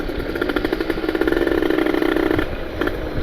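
A ported Kawasaki Ninja RR motorcycle engine runs close by with a steady, raspy mid-pitched drone that swells slightly under the throttle, then settles back near the end.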